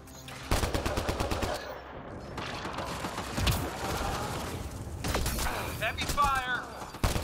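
Heavy automatic gunfire rattles through a Mass Effect Andromeda multiplayer firefight, bursts of rapid shots with impacts and mechanical clatter running almost continuously, with a brief voice callout near the end.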